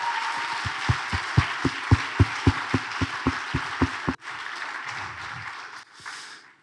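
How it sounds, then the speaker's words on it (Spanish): At a faith and arts festival talk, an audience gives a few seconds of applause led by a steady rhythmic beat of single claps. The clapping then softens into a looser wash and fades. "démosle un aplauso grande a las personas que hacen esto posible"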